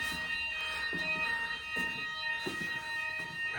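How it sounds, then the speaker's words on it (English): An indoor fire alarm sounds at moderate volume, a steady high-pitched electronic tone with repeated pulsing bursts underneath and no talking. "you know that fire alarm that just went off?"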